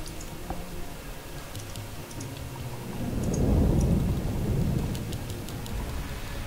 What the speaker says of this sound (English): Why does it rain so much in this game?